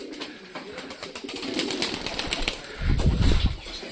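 Pigeons flapping their wings as they take off from a rooftop loft, a burst of fluttering close by that grows louder toward the end, with faint cooing behind it.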